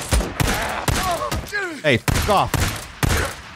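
Bursts of AK assault rifle fire in the post-apocalyptic game Days Gone, several loud broadband cracks spaced through the clip, mixed with someone shouting over the shots.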